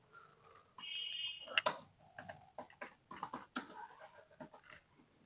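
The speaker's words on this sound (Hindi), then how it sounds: "मान लीजिए हमने कोई टेक्स्ट ही टाइप कर दिया, और टेक्स्ट में हमने टाइप कर दिया" Typing text on a computer keyboard while working in CorelDRAW, a close run of quick, irregular key clicks with brief pauses and a few louder taps, alone with no talk.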